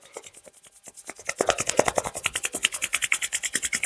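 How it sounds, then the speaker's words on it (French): Palms rubbed together vigorously to build warmth at the close of a seated and standing energy exercise, a fast rhythmic rasping that starts soft and grows loud and steady, with no talking. "Ici, frotte avec énergie. Ramène de la chaleur entre les mains."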